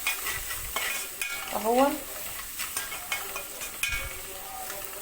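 Peas and onion frying in a pan, a soft sizzle under repeated scraping and clinking stir strokes of a utensil, with a brief spoken word near the start.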